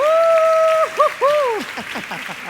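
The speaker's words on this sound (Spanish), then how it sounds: "recibamos con un aplauso a nuestros 4 invitados" Applause greets four guest speakers at an AI and data event, a loud crowd wash carrying a strong held tonal cry that bends and breaks off, followed by continuing clapping.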